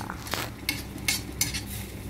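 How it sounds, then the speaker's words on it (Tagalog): A utensil stirs potato and eggplant through a thickening, sticky sauce in a pan, making a few soft clinks and scrapes over a low sizzle in a short, close burst. "So, i-mix lang natin. Continue lang tayo. Continue cooking."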